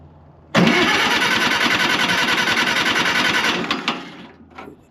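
The small engine of a homemade log splitter starts and runs loud and close with a rapid even chugging pulse, then cuts out after about three seconds with a few fading rattles.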